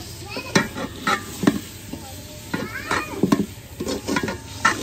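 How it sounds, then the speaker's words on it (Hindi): Beef fries with browned spices in a pan while a spoon stirs it, producing irregular scraping clinks over a constant close sizzle. "चम्मच जो है ना घुमाया जा रहा है"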